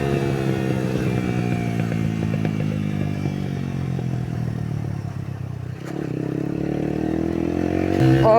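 A modified Yamaha YBR motorcycle accelerates hard in fourth gear, its engine droning loud and close with a steadily rising pitch, a brief dip near the end, then pulling on under rushing wind.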